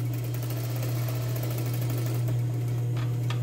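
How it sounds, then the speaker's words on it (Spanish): Sewing machine running a topstitch along the seam of women's shorts: a continuous close mechanical hum with a strong low drone and rapid needle chatter, a few sharper clicks near the end. "paso un pespunte al borde de la costura y me devuelvo con un pespunte a 5 milímetros"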